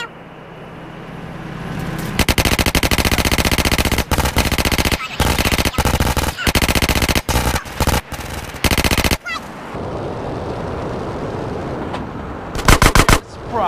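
Automatic gunfire rattles in GTA San Andreas, with loud rapid bursts separated by short gaps against in-game background noise, then a final quick burst near the end.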